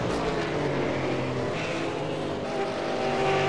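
V8 Supercar race engines roar in the iRacing video game during a race at Mid-Ohio, a steady loud drone with shifting engine tones as cars work through the final corners.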